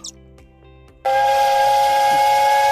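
A loud, sustained steam whistle blasts suddenly after a moment of near silence and holds its steady shrill tone.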